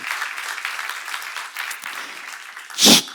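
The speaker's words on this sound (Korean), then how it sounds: "하나님이 여러분을 배려해 주는 거 보시면 박수하세요" A church audience at a seminar session applauds for a few seconds, a moderate, fairly even patter of hands. One sharp, loud impact lands near the end.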